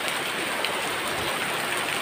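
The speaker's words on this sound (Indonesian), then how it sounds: "berhubung suasana lagi hujan di rumahnya" Steady rain falls outside a house at night, a dense, even patter close by with no voices.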